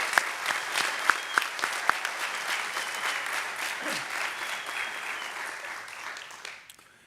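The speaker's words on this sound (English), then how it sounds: "How about a round of applause for that?" Warm applause from the audience at a high school graduation ceremony, steady and moderately loud with a few sharp individual claps, tapering off toward the end.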